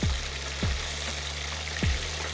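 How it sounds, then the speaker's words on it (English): Steady, crackling sizzle of chicken wings frying in hot oil, with three soft low thumps spaced through it. "whenever I'm frying something"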